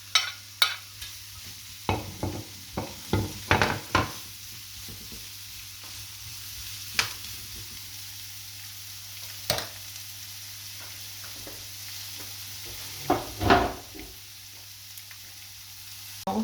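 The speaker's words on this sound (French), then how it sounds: "On fait revenir donc les oignons avec les poivrons." Onions and bell peppers sauté in a pan: a low sizzle and steady hum sit under intermittent close scrapes and taps as a utensil stirs, with a busier cluster early on and a few isolated knocks later.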